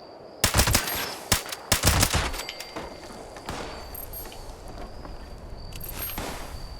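Gunfire in Fallout 76 during a Mothman event, several sharp loud shots and short bursts at the start, then softer scattered reports and rustling movement.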